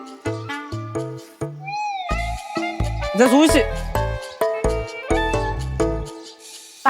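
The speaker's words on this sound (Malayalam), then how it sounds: "പൂച്ച തുമ്പേ" A cat meows with a wavering, drawn-out cry amid bouncy background music and a voice.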